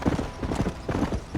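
Horse hooves clip-clop at a steady walking rhythm in the Western video game Red Dead Redemption, close and moderately loud with no talk over them.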